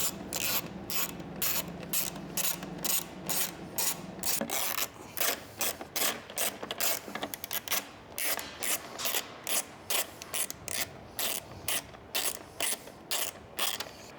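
A ratchet wrench works Torx bolts loose on a 2025 Harley-Davidson Street motorcycle, with crisp repeated clicking in uneven bursts and brief pauses between strokes.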